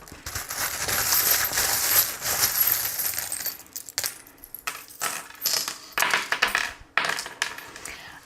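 Small divination charms tossed and rattling, a run of quick light metallic clinks and clatters close by, busy at first and then coming in short separate bursts.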